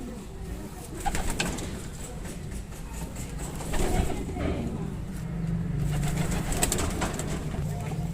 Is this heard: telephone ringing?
no